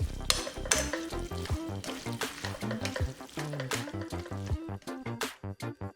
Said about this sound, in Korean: 스파게티 넣고 잘 섞어주고 올리브유 약간 추가